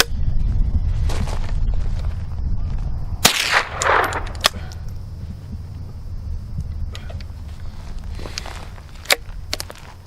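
A Henry AR-7 .22 survival rifle fires sharp, dry cracks scattered across the clip, one louder shot followed by a rattling mechanical clatter, over steady background rumble without talk.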